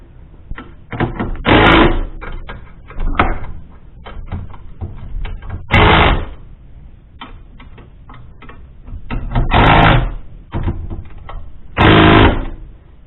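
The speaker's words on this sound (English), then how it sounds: "Start tightening some of it." Bolts tightened while a Harbor Freight winch is mounted on a tractor: repeated bursts of rapid ratcheting clicks, close and loud, separated by short quieter pauses.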